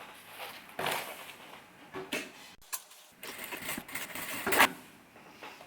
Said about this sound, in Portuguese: vou passar uma costura